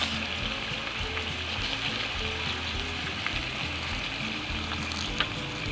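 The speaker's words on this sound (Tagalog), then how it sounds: "maglalagay na tayo ng patis" Fish sauce poured into a hot pot of pork hock sinigang with tamarind, a steady close frying sizzle running throughout with faint crackles and no talk.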